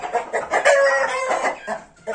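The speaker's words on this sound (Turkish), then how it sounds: "Şimdi horoz oldu." A young rooster crows close and loud, one full drawn-out call with clucking notes around it, alone without talk.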